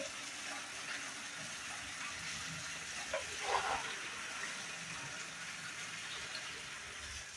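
Water runs steadily from an outdoor tap in a continuous, moderately loud rush with a brief splashy swell midway, and no talking.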